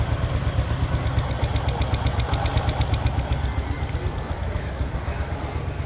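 A 2009 Honda Future Neo Fi motorbike engine idles close by with a steady low throb, a rapid even tick pattern running through the whole stretch and no voices over it.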